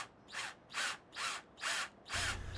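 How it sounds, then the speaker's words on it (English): Power drill boring holes for mounting a custom rear bike light, five short whirring bursts in a steady rhythm with brief pauses between, close and fairly quiet, the last one joined by a low hum. "So here I am drilling some holes and inserting some bolts into those holes."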